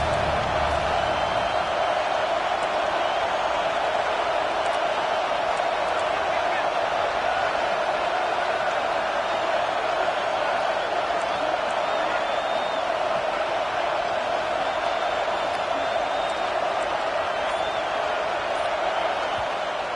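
Stadium crowd at a USC football game roars steadily for the defense on a big third down, a dense sustained wall of cheering with whistles and shouts that holds at full volume throughout.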